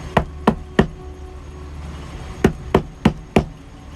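Sharp, loud knocks strike a door nearby, first three evenly spaced raps, then a pause, then four more in a quick, insistent run.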